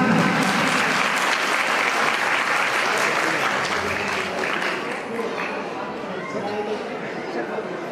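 A crowd applauds loudly and steadily at an award ceremony, clapping that fades slightly toward the end with some chatter mixed in.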